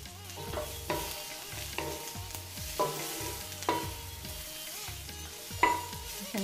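Onions frying in a pan with steady sizzle, stirred with a spoon that scrapes and knocks against the metal in repeated strokes, close and fairly quiet, no talking.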